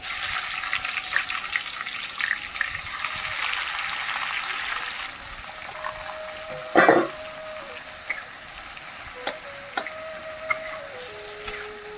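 Chopped onions fry in a hot pan for Bengali chicken kosha, a steady sizzle that fades partway through, with a few sharp clinks of a spoon against the pan and short scraping strokes near the end.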